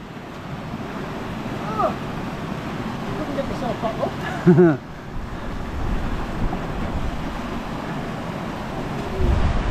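A river at a sketchy crossing in the Cheviot hills rushes constantly in the foreground, mixed with wind buffeting the microphone, while a person briefly speaks midway.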